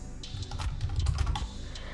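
Rapid keystrokes on a computer keyboard as a page title is entered, a steady run of close, crisp clicks lasting about two seconds with no voices.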